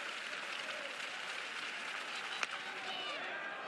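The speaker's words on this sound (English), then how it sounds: "Sold out crowd in Norman trying to help out Cade Crossland here in the bottom of the second" Sold-out college baseball crowd in Norman, Oklahoma, in a game against Ole Miss, a continuous wash of cheering and applause with one sharp crack near the end, under a commentator's voice.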